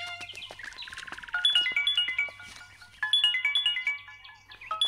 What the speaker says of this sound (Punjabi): ਤੇਰੀ ਭਾਬੀ ਦਾ ਫੋਨ ਆਇਆ